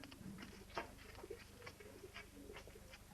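A pigeon coos in a castle throne room, soft repeated low calls over a murmuring indoor background with a few faint clicks.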